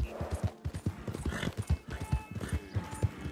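Horse hooves clip-clop in a steady, quick rhythm in the Red Dead Online video game on PS4 Pro, close and clear over soft ambient game sound.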